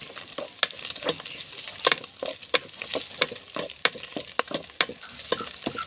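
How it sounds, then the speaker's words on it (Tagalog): Onion and garlic sauté in rendered pork fat for pakbet, a steady sizzle broken by rhythmic, close spatula scrapes and clacks against the pan, about two per second. "Tapos igisa natin yung sibuyas. Ayan yung bawang. Golden brown muna natin."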